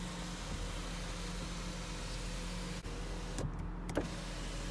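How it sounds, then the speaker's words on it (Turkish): The electric sunroof motor of a 1999 Jaguar S-Type 3.0 V6 runs with a steady, close electric hum inside the cabin, broken near the end by a few sharp mechanical clicks as the roof stops. "Sunroof'um sorunsuz çalışıyor."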